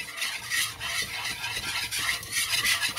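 A spoon stirring flour through melted fat in a pan for a macaroni and cheese roux, giving a close, continuous scraping rasp with a soft sizzle underneath.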